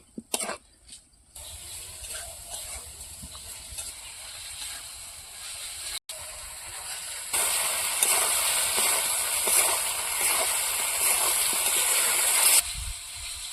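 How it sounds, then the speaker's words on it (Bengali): Cauliflower roast sautéing in a pan makes a steady broadband hiss that grows louder partway through and then cuts off, with faint mechanical clicks underneath. "এটা কিছু সময় কষিয়ে নেব।"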